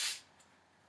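A short hiss of hairspray bursts close up while styling hair, then fades quickly into quiet.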